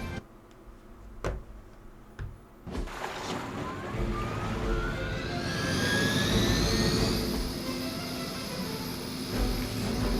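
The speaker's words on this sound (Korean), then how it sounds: "헬리콥터죠." A helicopter in Marvel's Midnight Suns approaches with a rising turbine whine that swells into a loud, sustained roar after a few faint ticking sounds.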